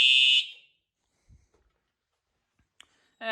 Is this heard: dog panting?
no